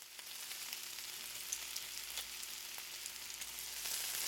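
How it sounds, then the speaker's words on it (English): Bacon sizzles in a pan with a soft, steady crackle and hiss, fairly quiet and close, swelling slightly near the end, with no voices over it. "we're going to put our bacon into a pan, and we are going to fry this up"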